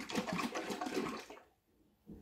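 Homemade oat milk sloshes inside a jar as it is shaken, a dense, busy liquid rattle for over a second, then a soft pause and a brief final slosh.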